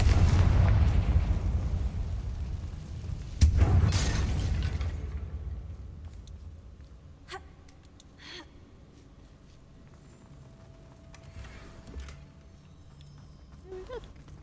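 A Confringo fire spell erupts in Hogwarts Legacy with a loud, booming blast up close. A second burst follows about three seconds later, then the rumble fades into quiet game ambience with a few faint clicks.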